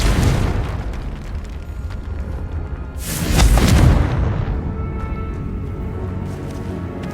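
In the Hogwarts Legacy video game, a Confringo fire-blast spell erupts in a loud burst of explosive rumble midway through, set against an ongoing bed of game sound before and after.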